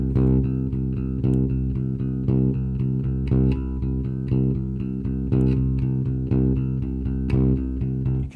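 A fingerstyle electric bass keeps pedalling on C in a steady, even pulse, with accented notes landing on beats one and three, close and full over a continuous low rumble, with no talk.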